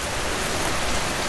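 Heavy rain pouring down outdoors in a dense, steady roar of drops hitting the ground, loud and continuous with no voices.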